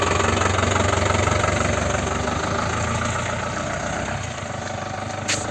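A Mahindra Marshal jeep's engine runs steadily and loudly while the vehicle reverses, a close, continuous low rumble with a faint knocking texture and no talk.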